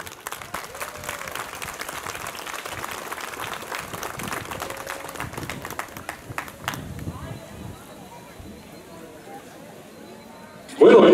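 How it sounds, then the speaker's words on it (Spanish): Applause from an outdoor crowd at a swearing-in ceremony in a town square, a steady dense clapping that runs for several seconds, then thins and fades, ending in a sudden loud burst near the close. "Ese aplauso es para ustedes,"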